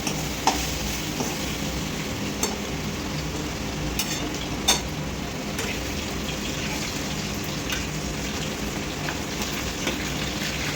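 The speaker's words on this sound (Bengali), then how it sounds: "মাছটা খুব লাল করে ভেজে নেবো।" Fish fries in a pan until deep red, a steady crackling sizzle with scattered sharp pops and spits throughout, close and moderately loud, with no one talking.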